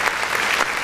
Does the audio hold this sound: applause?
yes